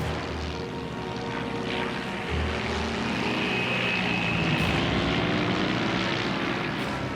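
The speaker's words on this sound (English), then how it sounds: "He opens the throttle, a life or death attempt to level the plane." A Dornier propeller plane's engine roars at open throttle, a loud, steady drone that swells slightly and holds for several seconds.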